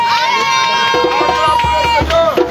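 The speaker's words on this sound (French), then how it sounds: "Si tu es content ce soir, acclame le Seigneur Jésus." A church congregation at an evangelism outing cheers and shouts in acclaim, a loud, dense crowd roar with children's shouts and sung voices running throughout.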